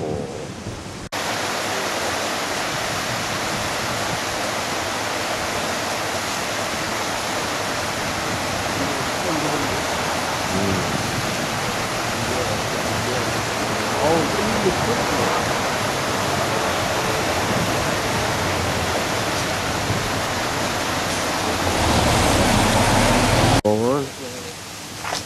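Steady, broadband rushing water from a waterfall near a hotel in Sapporo, Japan, fills the whole stretch, constant and fairly loud, with people talking faintly beneath it.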